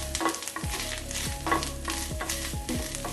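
Grated coconut roasting in a pan for a Kerala pumpkin erissery, a continuous dry sizzle punctuated by repeated scraping strokes of a spatula against the metal, close and fairly loud.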